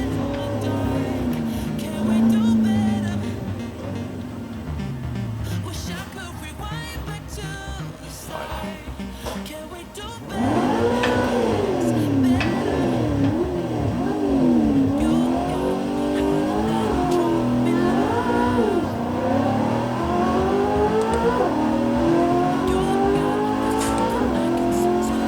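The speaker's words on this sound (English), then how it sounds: "let's try another start this time with the clutch" A Koenigsegg CCX supercar makes a standing-start launch using the clutch at the Dunsfold track. The engine revs loudly and steadily, then climbs through sweeping accelerating pitches over roughly fifteen seconds, close by and continuous, with no talk.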